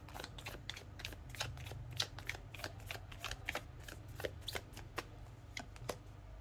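Tarot cards are shuffled and handled close by, a quiet but crisp stream of rapid flicking and riffling snaps in an otherwise calm room.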